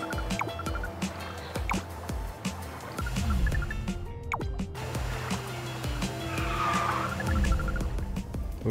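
Game karts drift and skid through corners in KartRider Drift, with engine drone, tire-squeal streaks and bright pinging effects layered over steady game music, loud and continuous throughout.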